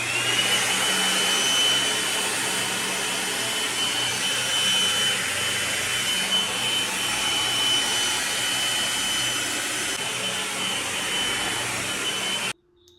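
A hair dryer blows on wet hair while a brush shapes it, making a loud, steady whoosh that runs continuously for about twelve seconds before cutting off abruptly.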